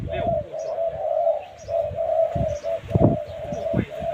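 Repeated cooing of a decoy dove, steady low calls in rhythmic phrases, close and fairly loud, with faint chirps and rustling in the background.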